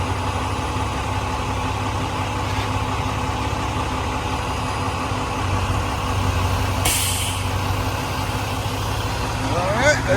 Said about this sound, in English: another truck is pulling in right behind me